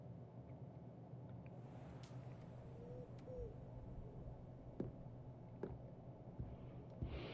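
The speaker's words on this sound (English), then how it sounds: "I do have an owl next to my bed that I can't sleep in" An owl in the Hogwarts Legacy game gives a soft, faint hoot or two over a quiet, low ambient hum, with a few light clicks scattered through the stillness.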